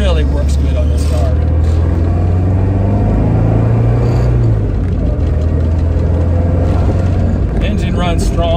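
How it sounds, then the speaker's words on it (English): A 1971 Fiat 124 Sport Spider with a five-speed runs steadily at close range, a smooth, even engine drone with a low hum that holds throughout. "Engine runs strong, no smoke, runs nice and quiet."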